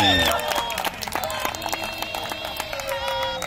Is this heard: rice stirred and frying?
no